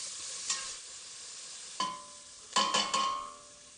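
Finely minced onions with a little salt are frying in a pan with a steady hiss of sizzling. Several sharp scraping stirs of a utensil against the pan cut through it, with one early on and a quick cluster toward the end.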